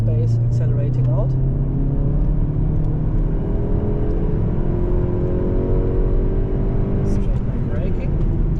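A Volkswagen Golf 7.5 GTI accelerates hard out of a corner on the Nürburgring Nordschleife during a Touristenfahrten lap. Its engine drone climbs steadily and stays loud and close throughout, with a voice talking over it.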